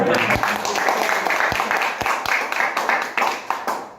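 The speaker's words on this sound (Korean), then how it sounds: "박수 먼저 쳐주시고요." An audience claps steadily through a project presentation on building a network with HAProxy and KVM. The dense, continuous applause stays close and fairly loud, with a few sharper individual claps standing out.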